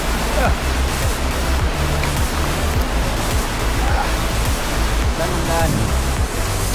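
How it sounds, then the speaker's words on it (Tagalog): Loud, steady rushing water like a flowing river fills the scene, broad and constant, with faint voices occasionally mixed in. "Ganda ng ilog dito"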